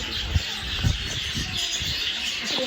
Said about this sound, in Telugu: ఇక్కడ బర్డ్స్ సౌండ్ వింటుంటేనే చాలా ఎగ్జైటింగ్గా అనిపిస్తుంది